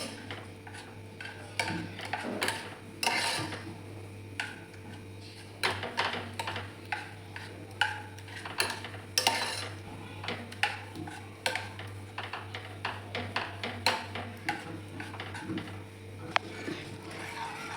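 Raw mango pieces being mashed in a pot with the gas off, a long run of close, irregular tapping and scraping knocks of a utensil against the pot, steady and unaccompanied by talk.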